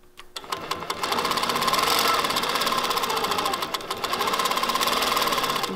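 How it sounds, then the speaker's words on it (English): An Innova longarm quilting machine sews steadily under its stitch regulator, set to 14 stitches per inch with a 300 minimum speed, giving a close, continuous rapid needle chatter that starts abruptly and runs without pause. "My stitch regulator is now set at 14 stitches per inch and a minimum sew speed of 300."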